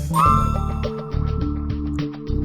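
A phone rings in the detective game Criminal Case: bright ringing chimes repeat in quick bursts over a steady looping background music bed.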